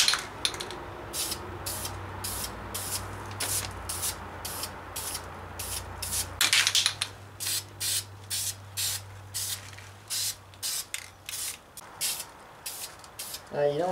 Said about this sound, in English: Alright, ready to start painting now.